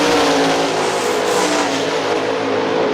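Sprint cars racing at Hartford Speedway Park, a loud, dense roar of engines held at high revs throughout, several cars close together and running without a break, with no voices over it.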